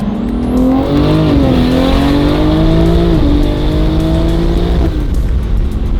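A single-turbo BMW G82 M4 with xDrive revs hard in second gear while drifting sideways, its engine note loud and close, climbing and dipping in pitch with sustained roaring and no voices.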